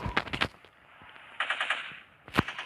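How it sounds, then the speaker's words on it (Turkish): Rapid gunfire in a modern sniper shooting video game: a quick burst of several sharp shots, a pause, then another burst and a single loud shot near the end, with no talking. "Kardeşim galiba diğer taraftan vuruyor"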